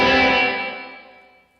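Hall reverb with a short pre-delay from a Boss RV-200 pedal on an electric guitar, a bright chord swelling then decaying smoothly over about a second and a half into a long fading tail.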